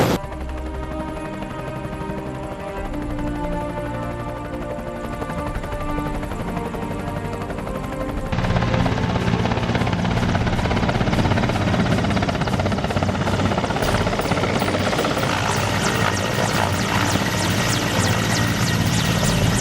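Armed military helicopters fly overhead in a Chinese TV drama action scene, rotor noise under a musical score that suddenly swells into a loud, dense roar about halfway through.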